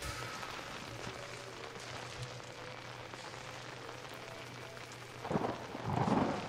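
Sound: thunder in the video game Outlast

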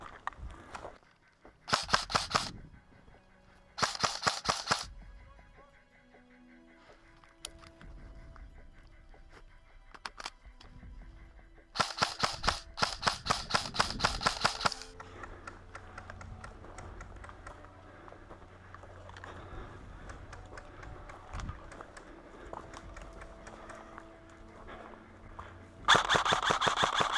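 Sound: airsoft gunfire from Krytac SPR and VFC Scar L

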